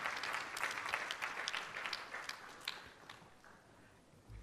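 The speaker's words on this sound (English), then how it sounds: "give a big round of applause to all the presenters of the poster session" Applause for poster and paper session presenters at a university health sciences research conference, a moderate round of clapping from the audience that tapers off, heard at a fairly low level.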